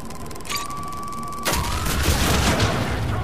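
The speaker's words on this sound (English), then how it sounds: "It's a rocket launcher." Hydra rocket launcher in Mass Effect 3 firing: a steady electronic charging tone holds, then a sudden loud whooshing blast erupts and trails off into rumbling noise.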